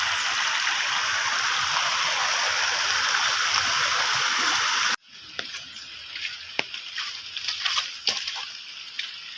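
Steady, loud rushing floodwater flows along a walking path during monsoon flooding for about five seconds, then cuts to a quieter scene with scattered splashes and trickles.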